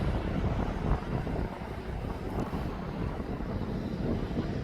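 Low, steady engine rumble of an aircraft taxiing after pushback from its gate at East Midlands Airport, heard at a distance with some wind noise and no talk.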